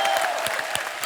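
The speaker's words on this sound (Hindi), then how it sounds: "जोरदार तालियां।" Studio audience applause on a comedy talk show, a dense burst of many hands clapping that holds steady and loud throughout with no speech over it.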